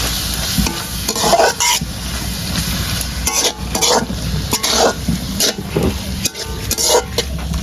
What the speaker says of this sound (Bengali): আর দিয়ে দিচ্ছি সামান্য জিরে ধনে বাটা সব মশলা একসাথে কিছুক্ষণ কষিয়ে নেব